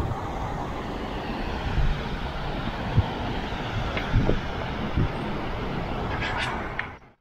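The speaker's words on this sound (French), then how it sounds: "un petit avion de tourisme" A small light tourist airplane flies over the mountains near the Sept Laux lakes above Allemond in Isère. Its drone is a steady, distant roar mixed with wind noise on the microphone, fading out at the end.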